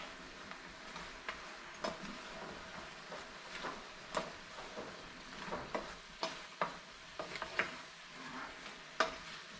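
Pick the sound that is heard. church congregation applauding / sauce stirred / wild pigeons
sauce stirred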